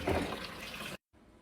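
Tap water pours strongly while a wash of apple cider vinegar and sea salt is prepared for fruit and herbs, then cuts off abruptly and leaves a quieter trickle behind.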